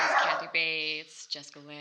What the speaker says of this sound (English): so if you hear dog noises and jingling in the background